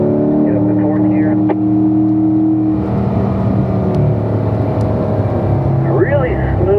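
A race car engine drones on track, a steady tonal whine that shifts pitch as it changes up through the gears, loud and close, with someone talking over it.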